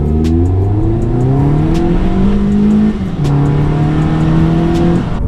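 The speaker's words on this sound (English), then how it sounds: "Definitely getting a lot more noise from the car now with the short ram intake." A 2018 Toyota Camry's 2.5L four-cylinder with a Weapon R short ram intake revs up loudly and close, its pitch climbing in steady pulls with a brief dip before rising again, no talking.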